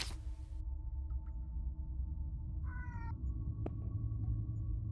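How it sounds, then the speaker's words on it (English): A cat meows in a video game, a short rising tonal call heard once near the middle against a steady low background hum, with a few faint clicks around it. "That's a very loud kitty."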